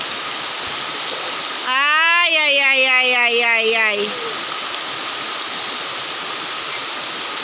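Rain pours in a steady hiss as children bathe outdoors; midway a voice rings out in a long, sliding call over the downpour before the rain carries on alone.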